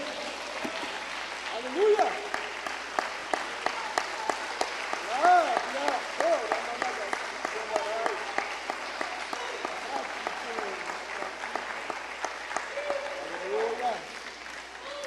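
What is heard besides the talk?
congregation applauding Jesus Christ in church service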